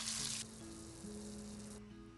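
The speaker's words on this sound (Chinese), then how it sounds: "再倒入番茄丁炒出汁水" Diced tomatoes stir-fried in hot oil with scallion whites and smashed garlic, hissing in a steady loud sizzle close by that drops in brightness partway through, with a low hum underneath and no talking.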